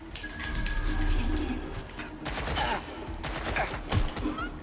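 Gunfire in the video game Watch Dogs Legion: a dense burst of shots and impacts over a busy in-game background, with louder cracks scattered through, and a voice exclaiming briefly.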